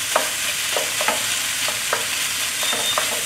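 Cucumber stir fries in a pan with black pepper and sriracha, a bright continuous sizzle broken by frequent scraping and tossing knocks of a spatula, close and unaccompanied by talk.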